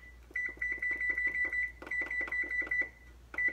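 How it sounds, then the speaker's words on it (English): A kitchen timer beeps repeatedly as buttons are pressed to set it while baking cookies, a quick string of short, bright, evenly spaced chirps in two bursts with a brief pause between. "So I will set my timer"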